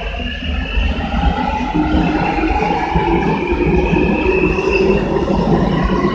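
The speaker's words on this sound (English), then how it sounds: "there's a train approaching, guys. A Jubilee line." A London Underground Jubilee line tube train approaches with a loud, steady rumble and rising whine that fills the platform, with no talking.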